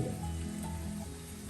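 Onions sautéing in a pan for a Kerala-style kingfish masala roast, giving a steady, close frying sizzle that holds evenly from start to finish with no voices.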